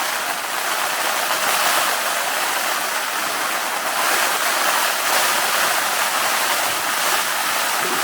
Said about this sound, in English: It was windy and rainy, and it's still raining.